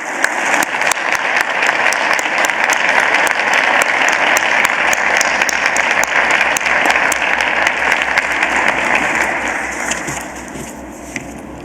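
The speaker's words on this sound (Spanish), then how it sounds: "Les pido un aplauso para él." Sustained audience applause fills a formal judicial association event, steady dense clapping for over ten seconds that tapers slightly at the end, with no talking over it.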